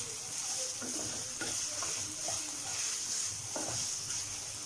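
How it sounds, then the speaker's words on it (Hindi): Minced meat mixture with spices and green chili paste stirred in a hot pan for a white qeema karahi, giving a steady sizzle with soft scraping stir strokes, close and continuous, no talking. "मिक्स करेंगे इसको अच्छी तरह"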